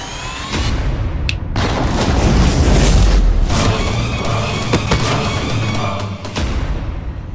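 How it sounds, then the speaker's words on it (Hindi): A loud booming blast rumbles through, with sharp cracks and crackling debris-like bursts around it, dense and continuous. "धमाका तो इतना बड़ा हुआ पर हुआ कुछ नहीं"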